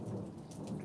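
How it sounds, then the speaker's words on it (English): Quiet steady rainfall during an electrical storm with a low rumbling wash underneath, faint and continuous, with no voices. "Some people might call that rain."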